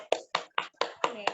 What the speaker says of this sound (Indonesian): tepuk tangan buat Kakak Arum